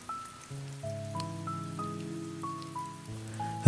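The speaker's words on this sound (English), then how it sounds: "Rain gentle," Gentle rain falls on leaves and the ground, a soft, steady patter under sustained, calm musical tones, with no wind and no voices.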